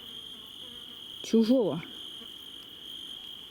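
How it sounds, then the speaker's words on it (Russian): Crickets trill in a steady, high, continuous chirp in a dark forest at night on a solo overnight hike, while someone briefly speaks up close partway through. "буду сейчас смотреть «Чужого», слушать сверчков, смотреть на небо"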